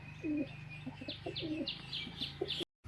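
A female pigeon coos softly in short repeated phrases, with faint chirps from other birds nearby and a low steady hum in the background.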